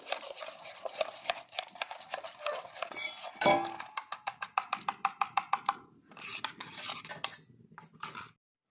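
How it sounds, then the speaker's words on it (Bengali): Turmeric being stirred with a little water in a small bowl, a near, quick series of metallic spoon clinks and scrapes, rhythmic bursts with short pauses, alone with no talk. "কিছু পরিমাণ হলুদ দিয়ে দেবো এবার অল্প জল দিয়ে ঘাটি নিচ্ছি"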